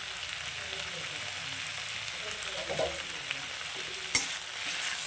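A fish head frying in a pan is stirred together with chopped coriander leaves, making a soft continuous sizzle with occasional scraping stir sounds and one sharp clink near the end.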